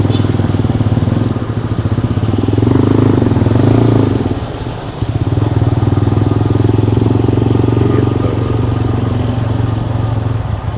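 A TVS Max 125 custom scrambler motorcycle being ridden, its steady engine drone loud and close throughout, swelling briefly a little before the midpoint and easing back to a constant hum.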